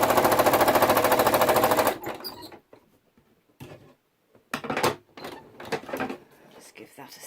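A sewing machine stitches with cream cotton thread in a dense, steady mechanical whir for about two seconds, then stops, leaving quieter scattered handling noises.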